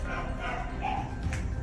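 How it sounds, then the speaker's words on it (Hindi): Dogs bark and yip faintly in the distance over a steady background hum, heard from inside a flat, brief and muffled. "यहाँ पे कुत्ते भौंकने लग गए"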